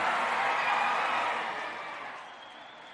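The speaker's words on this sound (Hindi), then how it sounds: "जोरदार तालियां, जोरदार तालियां।" A dense wash of clapping hands from a crowd of guests at an iftar dinner gathering holds steady and loud, then gradually thins and fades toward the end.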